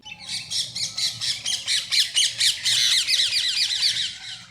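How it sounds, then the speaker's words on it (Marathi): A flock of birds squawks in a dense, rapid burst of harsh overlapping calls as they rise from a banyan tree, loud and continuous with no talk. "वडाच्या झाडात गुरफटून बसलेली पाखरं कलकलाट करत उठली"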